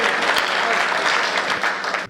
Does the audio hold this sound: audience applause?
yes